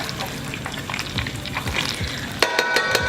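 Butter melts in a pan with a constant close sizzle and crackle, and a sharp clink near the end.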